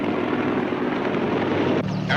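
Steady rotor and engine drone of a helicopter in flight near the Las Vegas and Boulder Dam area, loud and continuous, with a faint radio-like voice cutting in briefly at the end.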